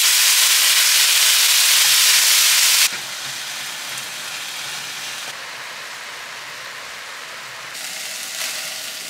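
Ground beef sizzles in olive oil in a pan, a loud, dense hiss that suddenly drops to a softer, steady frying crackle that continues to the end.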